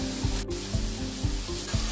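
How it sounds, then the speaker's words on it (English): Onions and chilies frying in a pan for vegetable spring rolls, a steady close sizzle with faint regular knocks about every quarter second. "Let the onions and chilies fry nicely."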